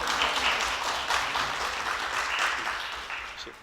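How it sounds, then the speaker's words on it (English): Applause fills the room at a school event, a dense steady patter of many hands clapping for several seconds, tapering off slightly toward the end with no talk over it. "Give her a round of applause"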